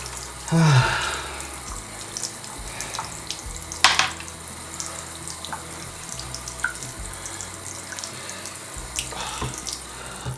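Water runs from a tap into a sink and drains away, a continuous low wash with a louder splashing burst near the start and occasional clinks, and no speech.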